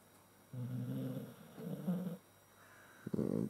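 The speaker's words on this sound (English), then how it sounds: "just snoring away" Slow, rumbling snoring breaths from close by, two long drawn-out inhales followed by a shorter rougher one, with no talking.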